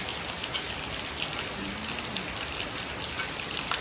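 Rain falling outside a bedroom window in Maha Sarakham, Thailand, a steady dense hiss with scattered drop patters, continuous and even throughout.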